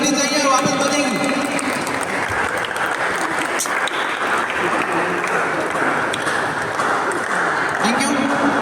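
Sustained applause fills a badminton championship ceremony for a state champion, with a crowd clapping steadily and loudly throughout, a voice briefly heard over the clapping.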